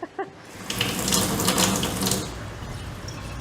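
Water running from a tap into a sink after a couple of brief clicks, a steady close splashing stream that continues to the end.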